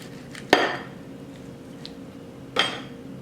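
A knife cuts into a crock pot pork loin on a plate, giving two sharp clinks against the plate about two seconds apart, with quiet background between.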